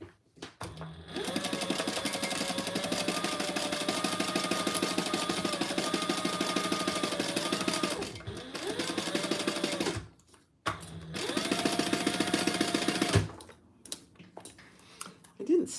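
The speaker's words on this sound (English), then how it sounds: "we're going to sew around that" A sewing machine runs a long seam on a crossbody bag, a steady close mechanical whir with brief pauses and restarts near the end.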